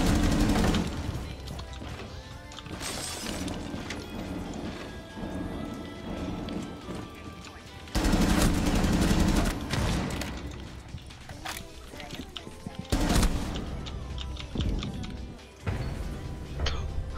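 Gunfire in a multiplayer video game: dense bursts of shots and impacts that come in loud, cluttered waves with brief lulls, alongside game effects.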